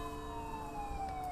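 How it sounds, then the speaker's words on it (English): Police car sirens sounding during a memorial procession for a fallen police officer, a steady wailing tone that slowly falls in pitch, heard from some distance at moderate level. "lights and sirens"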